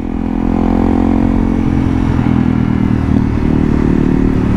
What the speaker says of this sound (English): I'm just hovering around the 5k mark because I want to see if there's any sign of that 5k rattle.